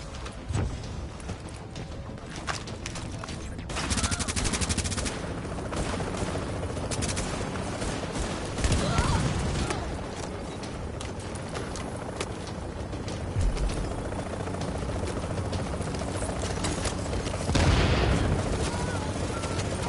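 Sniper and automatic gunfire crackle through a firefight in the video game Tom Clancy's The Division, with repeated shots and bursts throughout, some louder impacts standing out, while players talk over the action.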